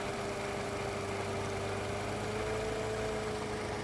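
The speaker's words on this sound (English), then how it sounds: "You also heard a change in idle noise" A Mercedes W203 engine idles steadily up close while its EVAP purge feeds vapour into the intake manifold, giving a constant hum with a tone that drifts slightly as the idle shifts.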